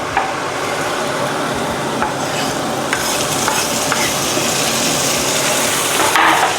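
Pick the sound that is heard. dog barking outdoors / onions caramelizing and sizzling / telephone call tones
onions caramelizing and sizzling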